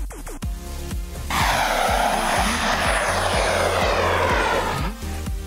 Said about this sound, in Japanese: 巨大なガスタービンエンジンです。